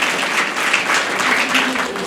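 An audience claps steadily and densely for about two seconds, a bright continuous patter of many hands filling a hall during a spiritual talk.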